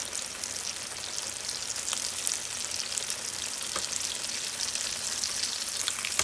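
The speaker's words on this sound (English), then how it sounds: "you let these fry for a minute each side" Breaded chicken cordon bleu fries in a pan with a dense, steady sizzle and hiss, dotted with faint pops and spatters throughout.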